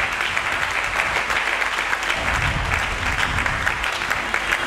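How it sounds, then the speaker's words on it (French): A church congregation applauds loudly and steadily, a dense wash of clapping hands with faint crowd noise running throughout. "On peut acclamer très fort pour Jésus."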